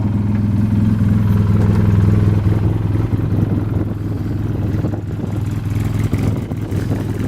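A 2011 Polaris RZR 800 S side-by-side, fitted with a lift kit, running steadily with a loud, close, clattering mid-pitched engine drone that stays steady throughout, with no talk over it.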